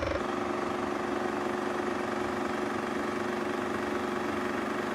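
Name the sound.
IMAX film camera rig shutter running on set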